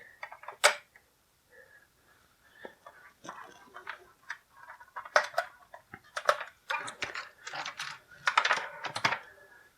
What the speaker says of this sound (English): we've got 2 of these rubber bands here to go ahead and cut off as well while we're at it